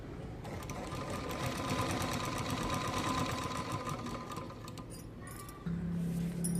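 A sewing machine runs steadily, stitching the back piece of a blouse, with a continuous loud mechanical whir that shifts to a lower hum near the end; nobody speaks.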